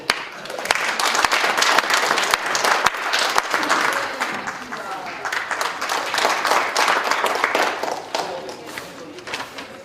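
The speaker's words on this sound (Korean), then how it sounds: "우리 한정혜 위원장님의 강의 뜨거운 박수로 부탁을 드리도록 하겠습니다." An audience at a lecture gives dense, sustained applause, loud and even throughout with many hands clapping at once, and some voices faintly mixed in.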